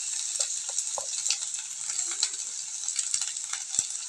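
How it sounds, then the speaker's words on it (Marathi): Onion frying in hot oil in a kadhai: a steady, fine hiss of sizzling oil with occasional soft clinks and scrapes of a spoon stirring, quiet and close. "कढईमध्ये मी थोडंसं तेल गरम झालेलं आहे, तर त्याच्यामध्ये कांदा आपण चांगला"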